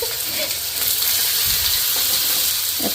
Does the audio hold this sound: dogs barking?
no